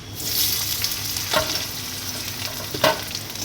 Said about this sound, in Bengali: এখানে গাজর পেঁয়াজ বটবটি সব ভেজে নিচ্ছি চাউমিন বানাবো বলে